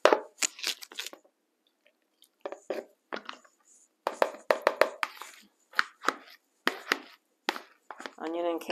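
Cooked food for a Guinness braised corned beef dish is mashed with a hand masher in a kitchen, producing irregular bursts of soft, squelchy thuds and scraping against the pot. The strokes come in clusters separated by brief pauses.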